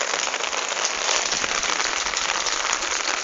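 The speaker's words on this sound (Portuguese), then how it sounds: "Olha a chuva" Steady rain pours down outdoors in São José dos Campos, a dense, even hiss of drops striking surfaces close by, continuous and loud throughout with no voices.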